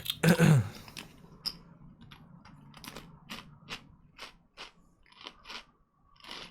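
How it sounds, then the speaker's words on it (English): Someone crunching food close to an open microphone during live GTA racing commentary, a series of short, crisp crunches repeating irregularly with no talking. "I can hear you crunching."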